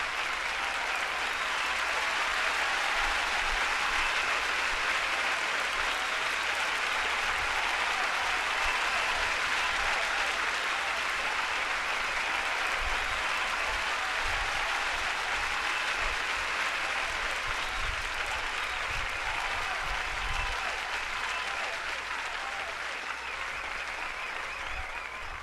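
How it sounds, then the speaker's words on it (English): A recorded round of applause plays on its own, a dense, even roar of many clapping hands that holds steady for the whole stretch without letting up. "You deserve a big round of applause, so I'm gonna play it out"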